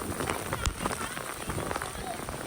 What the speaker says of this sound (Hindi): बारिश देखो कितने तेज आ रहे हैं।